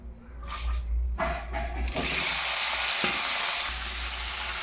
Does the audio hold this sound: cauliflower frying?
yes